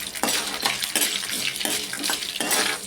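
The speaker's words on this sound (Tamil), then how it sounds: "எல்லாத்தையும் ஸ்லோ ஃப்ளேம்லேயே வச்சு வதக்கி எடுத்துடலாம்." Garlic cloves and dried red chillies sautéing over a slow flame for pirandai thuvayal, a steady close sizzle broken by repeated scraping stirs of a utensil against the pan, no voices.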